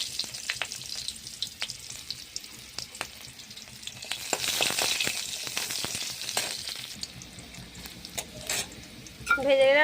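Dried red chillies and small onions sizzle and spit in hot oil in a pan for a vegetable fry with chickpeas, a steady close frying hiss broken by scraping stirs and clinks.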